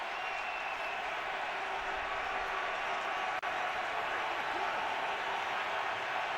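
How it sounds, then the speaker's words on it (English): A large football stadium crowd at a Miami Dolphins at Buffalo Bills NFL game gives a loud, continuous roar of cheering and applause that stays steady throughout. "Loud crowd"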